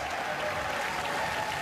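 A dense, steady wash of applause rolls through the House chamber during the State of the Union, distant and uniform with no voices on top.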